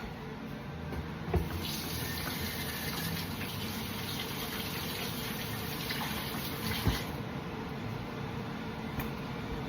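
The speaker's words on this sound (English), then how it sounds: "Let me wash my hands." Hands being washed under a running kitchen tap during home dinner preparation; a steady, close rush of water flows throughout with no talking.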